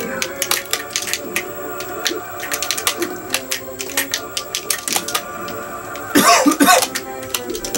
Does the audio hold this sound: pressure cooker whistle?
no